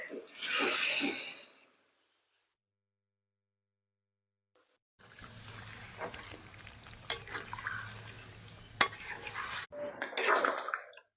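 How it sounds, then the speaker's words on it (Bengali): Water poured into mutton curry frying in oil in a pan sets off a loud burst of hissing, then quiet, followed by bubbling, clinking of a utensil against the pan and scattered clatter. "এবার আমি জল দেবো জল দিয়ে দিচ্ছে"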